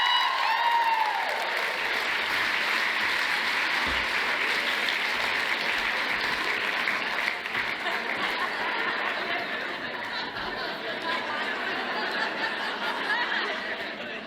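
A keynote audience at a sales talk applauds steadily and loudly, the clapping sustained for several seconds with scattered chuckles and murmured chatter before it slowly tapers off.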